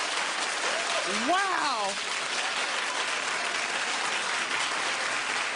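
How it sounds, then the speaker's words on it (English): A talk-show studio audience claps steadily and loudly, a continuous wash of hands throughout, with one voice briefly exclaiming over the start of it. "Anyway, keep clapping"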